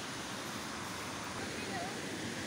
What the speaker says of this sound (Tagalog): Malakas yung agos ng ilog